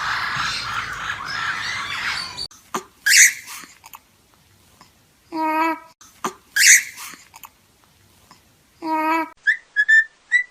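A parrot squawks and whistles in short, separate bursts, some harsh and screechy and others tonal and whistle-like, heard close after an opening stretch of noisy chatter.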